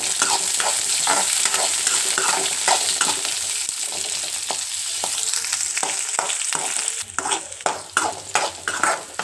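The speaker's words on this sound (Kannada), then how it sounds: "ಆನಿಯನ್ನು ಸ್ವಲ್ಪ ನೀಟಾಗಿ ಫ್ರೈ ಮಾಡೋಣ" Onions fry in a pan for a dhaba-style paneer dish, with a loud, steady sizzle broken by repeated scraping stir strokes throughout; the sizzle briefly thins before the stirring grows busier, and no one speaks.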